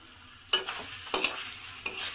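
Pumpkin and masala roasting in a pan, with a low sizzle broken by three or four sharp spatula scrapes, close and with no voices.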